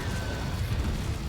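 Fire spell Incendio cast in the Hogwarts Legacy video game: a short, dense roaring burst of flame with heavy low rumble that holds steady for just over a second.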